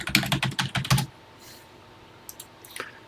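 Brisk typing on a computer keyboard, a fast run of key clicks for about a second, then near silence with a few scattered taps.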